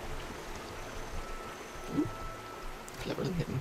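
A steady rush of falling water from a waterfall in the video game Guild Wars 2, with a constant broadband hiss throughout and a few brief low thumps near the end.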